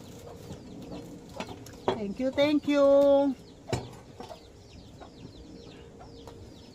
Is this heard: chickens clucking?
yes